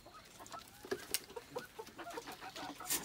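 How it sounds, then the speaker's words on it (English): A golden pheasant calls among other birds in a backyard aviary, giving short clucking and chattering notes in an irregular sequence, moderately close but faint, with no talking. "then that's a golden pheasant"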